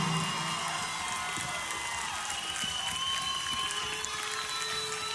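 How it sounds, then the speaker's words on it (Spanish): Dense, continuous crowd applause and cheering at a banda concert tribute, loud and sustained throughout with scattered shouts. "yo quiero que le den un gran aplauso al verdadero rey de la banda"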